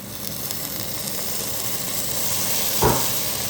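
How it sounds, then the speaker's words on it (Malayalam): Water poured into a hot pan of green-ground crab masala gives a steady broad steaming hiss and sizzle throughout, with a brief louder splash-like burst near the end. "വെള്ളം ആഡ് ചെയ്ത് കൊടുക്കുകയാണ്."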